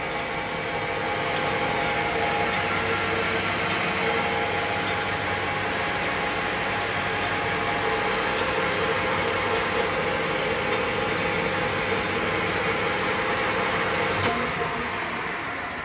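A Leblond Regal 13 x 30 gear head metal lathe runs at its lowest speed, giving off a steady, even mechanical hum with gear whine that holds at constant level throughout, with one faint click near the end.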